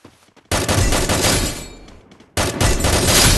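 Loud bursts of gunfire from a video game shooter, one dense sustained volley followed by a short lull and then a second heavy burst, close and with no talk over it.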